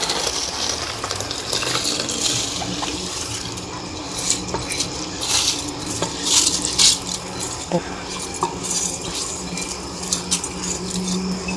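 Rice is tipped into a pot and stirred for tikka biryani, giving a steady wet hiss and gritty scraping with sporadic clinks of a spoon; a voice speaks softly now and then.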